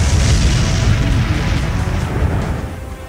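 Large explosion in north-eastern Ukraine, a loud deep boom rumbling and rolling on for several seconds with no voices.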